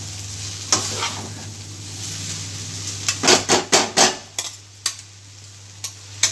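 Hakka noodles tossed in a pan with two forks, a run of sharp metallic clinks and scrapes over a steady sizzle and a low hum, with the strikes bunching up in the middle.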